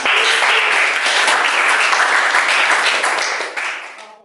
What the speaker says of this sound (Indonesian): Beri aplaus untuk kelompok pertama.